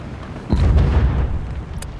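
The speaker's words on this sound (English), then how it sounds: "Something exploding there." A single explosion in the War Thunder tank game, realistic battles mode with a German Jagdpanther, erupts suddenly as a loud, close boom and rumbles on for well over a second without any talk.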